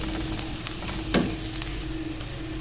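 Two tablespoons of flour go into a pan of softened onions and are sautéed, giving a close, continuous sizzle broken by the scrape and clack of a stirring spoon, with no speech.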